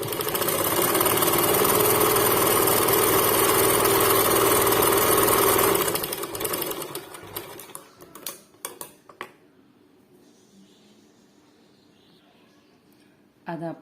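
A sewing machine stitches a fabric strip, a loud steady motor whir for several seconds, then stopping, followed by scattered clicks and handling noises nearby.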